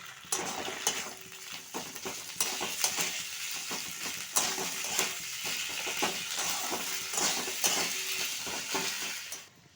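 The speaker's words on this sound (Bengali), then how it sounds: "এরপর আমি নারকল কোড়াটাও দিয়ে দিচ্ছি এটা ভালোভাবে একটু ভেজে নেবো" Grated coconut frying in a pan gives a soft sizzle broken by repeated scraping and clinking as a utensil stirs it against the metal, an irregular rhythm of strokes over nearly ten seconds, with no talking.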